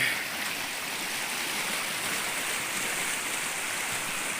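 Floodwater rushing steadily across a flooded rice paddy, a continuous broad wash of flowing water with no pauses, fairly close and moderately loud, with no voices.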